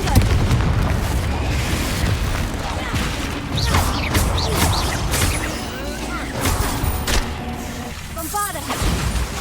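Repeated fiery spell blasts go off in Hogwarts Legacy combat, dense booming explosions stacking over one another with crackling bursts throughout, loud and continuous, with a voice shouting spell incantations over the din.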